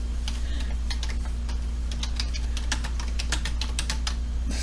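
Fingers type on a computer keyboard in quick, irregular bursts of sharp clicks, fairly close and clear over a steady low electrical hum, with no talking.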